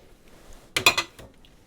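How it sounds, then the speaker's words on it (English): A cup of Grape-Nuts cereal poured into a mixing bowl for 1943-style mock sausage patties gives a short burst of dry, rattling patter with a few small clinks, near and fairly quiet, lasting about half a second. "A cup of grape nuts. And in they go."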